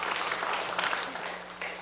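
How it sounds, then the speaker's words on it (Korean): A church congregation gives steady, dense applause to encourage the youth members at a youth Sunday worship service, heard close in a brief burst. "우리 청년 예배 드리는 우리 청년들에게 힘차게 격려의 박수"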